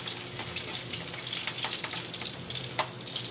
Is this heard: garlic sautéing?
yes